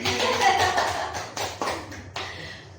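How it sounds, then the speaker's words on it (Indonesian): Hand clapping from a classroom audience, brief, soft taps and claps heard at moderate distance over a low background murmur for a few seconds. "Tepuk tangan dulu."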